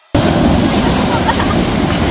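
Big waves roll onto a beach front at a resort in San Felipe, Zambales, making a loud, continuous roar and wash that starts abruptly and fills the scene close to the microphone, with wind buffeting.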